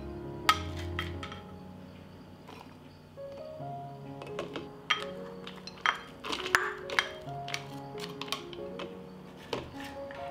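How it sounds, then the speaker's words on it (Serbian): Chopped onion is dropped into a clean glass jar already holding white meat, giving a scattered run of light clinks and taps against the glass at close range with no talk. "Zatim u teglu sipam seckani crni luk."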